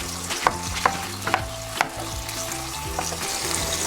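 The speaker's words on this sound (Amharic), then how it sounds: "አሁን አማስላለሁ።" Chicken hearts frying in a pan with onion, tomato and garlic, stirred with a spoon: steady sizzling under a series of sharp scraping and clinking stirring strokes, close and clear, with no voices.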